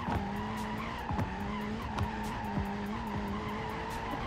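A tuned Golf in BeamNG.drive climbing a steep slope with its wheels spinning, giving a continuous strained engine drone broken by repeated sharp tire squeals and skids, loud and close.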